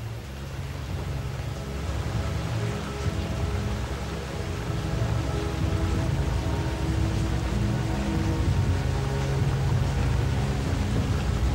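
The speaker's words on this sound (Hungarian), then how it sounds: "A felszakadó felhőkből eső áradat öntözi a bolygó még forró felszínét." A steady, dense roar of heavy rain with deep rumbling underneath, constant and loud throughout.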